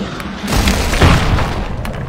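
Heavy airstrike blasts in a first-person shooter, a deep rumbling boom swelling around the middle and a second thudding impact, with continuous loud battlefield noise throughout.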